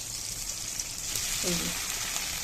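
Coriander leaves are dropped into tomatoes frying in a pan for a chutney, setting off a steady sizzle with a brief burst of crackling partway through.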